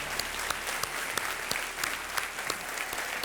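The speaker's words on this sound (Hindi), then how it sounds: "तालियां बजती रहे ताज के लिए" Studio audience on a TV quiz show applauds a contestant, a dense, loud, sustained burst of clapping with sharp individual claps standing out throughout.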